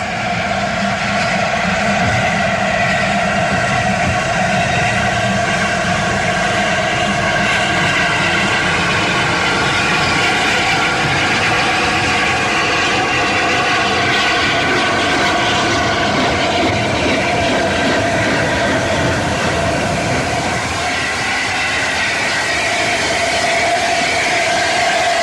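An LNER A4 steam locomotive, Mallard, with its corridor tender, backing onto its train near Bristol, gives a loud, steady, continuous rumble and hiss that holds without a break and carries no voices.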